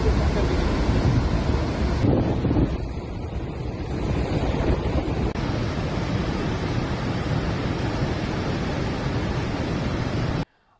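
A powerful, continuous roar of water rushes through the opened gates of the Salal Dam on the Chenab river. The roar is loud and steady with wind buffeting the microphone, then cuts off abruptly near the end.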